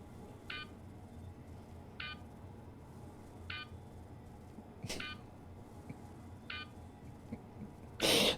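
Electronic beeping repeats in short bursts about every 1.5 seconds, fairly faint and steady over a quiet room background, ending with a brief louder burst of noise.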